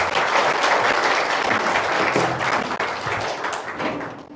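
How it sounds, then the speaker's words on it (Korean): Sustained applause from a seated audience at a Korean community launch event, steady broadband clapping filling the whole stretch at even loudness with no talk over it. "모두 큰 박수로 맞이해주시기 바랍니다."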